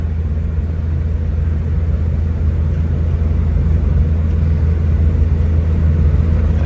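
A restored 1968 Morris Traveller rumbles steadily along the road, its engine and road noise loud and continuous as it rolls over a big bump, with no talking.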